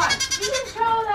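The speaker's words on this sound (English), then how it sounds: "Look at that goat." A goat bleats at a small animal auction, a couple of wavering, nasal cries close by, with people talking around it.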